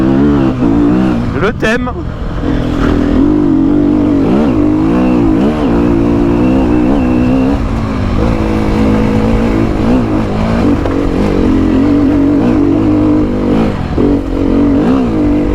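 A Sherco enduro motorcycle engine revs and holds high, loud and close, with rising and falling pitch throughout, while a rider talks over it.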